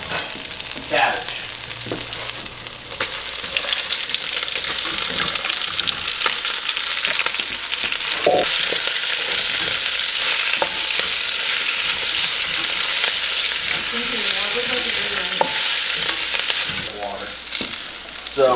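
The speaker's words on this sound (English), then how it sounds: "we turn down the heat to maybe a medium-low so we don't burn our garlic. And this is gonna stir-fry cook here for about a minute" Garlic stir-frying in a pan over medium-low heat for a Chinese cabbage stir fry gives a steady, close sizzle with occasional scraping stirs, continuous and fairly loud with no talking.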